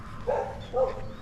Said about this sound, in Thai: นี่มีเสียงหมาเห่า